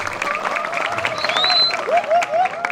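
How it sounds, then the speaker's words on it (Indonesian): Audience applause at a Calonarang performance at Pura Dalem Sala temple in Bali: a steady patter of clapping mixed with crowd noise, with sustained musical tones and sliding whistle-like notes running over it. "Tepuk tangan dong untuk kita semua"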